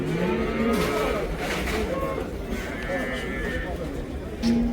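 Young cows at the Karabulak livestock market moo in several drawn-out calls, some near and some farther off, over a busy crowd with people talking throughout.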